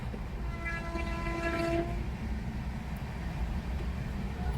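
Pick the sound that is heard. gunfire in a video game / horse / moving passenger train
moving passenger train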